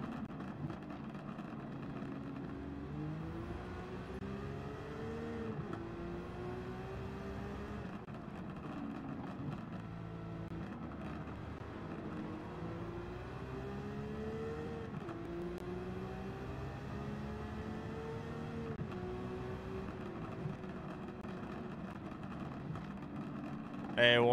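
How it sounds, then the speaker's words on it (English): Corvette race car engines in Gran Turismo 7 drone steadily throughout, with engine pitch rising and falling through gear changes under continuous talk from a player. "Yo, that Corvette's about to hit me."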